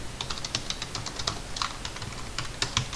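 Commands are typed into AutoCAD on a computer keyboard, a close run of crisp, irregular key clicks and taps with a few heavier strokes like an Enter press. There is no talking.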